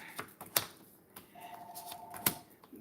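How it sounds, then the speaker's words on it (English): A telephone rings faintly in an indoor room, giving a brief steady electronic tone about a second long. Scattered soft clicks and knocks sit around it. "Sorry about the phone ringing."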